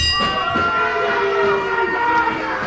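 A wrestling ring bell rings with long sustained metallic tones that fade slowly, heard over crowd noise at a televised wrestling show.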